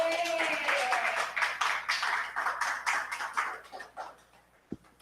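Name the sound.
congregation applauding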